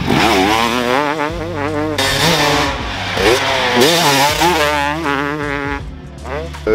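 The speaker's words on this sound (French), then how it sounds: "on va enfin tester notre 300YZ" A Yamaha YZ 300 two-stroke dirt bike being ridden, its engine loud and close, revving up and down in repeated rising and falling sweeps with short throttle cuts between.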